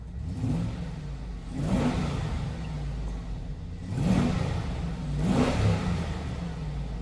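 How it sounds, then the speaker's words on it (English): A Vortec 6-liter V8 is revved during a cold start, giving three rising roars at a steady pace over a constant idle, close and loud with no talking. "Give it a few revs here."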